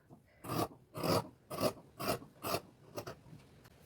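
Scissors cutting saree blouse fabric along a marked line, giving about eight crisp rasping snips in a steady rhythm, close and fairly quiet, the last few shorter and lighter.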